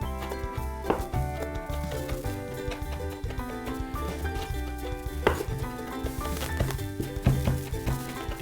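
Knife chopping herbs on a cutting board for Turkish vegetable pancakes, a steady run of quick, close taps with occasional louder knocks and faint clatter, no talking.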